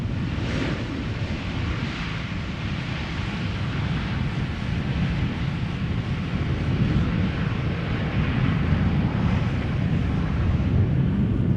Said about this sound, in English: a regular KLM 737 in the meantime just landed on Polderbaan